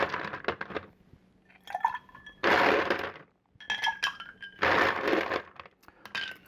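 Ice is scooped into a mixing glass for a stirred Cynar and Cherry Heering cocktail, producing bright clinks and cracks, then two louder rattling cascades of cubes a couple of seconds apart, close and clear.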